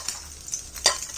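Garlic hitting hot oil in a pan sizzles and spatters steadily, with a brief louder crackle near the end and faint stirring, no voices.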